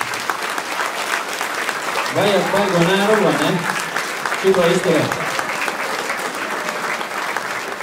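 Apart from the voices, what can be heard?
audience applause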